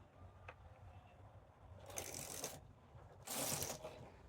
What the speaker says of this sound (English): I'm going to open the carriage to knit right now